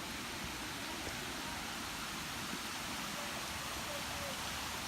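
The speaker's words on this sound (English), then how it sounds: "Sounds like there's a waterfall." Steady broadband rush of water from the waterfall at Chalk Ridge Falls Park in Belton, Texas, a constant unbroken roar filling the whole moment.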